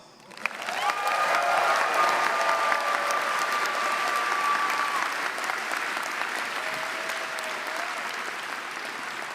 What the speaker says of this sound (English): So by your applause, who thinks the graduates deserve a plus?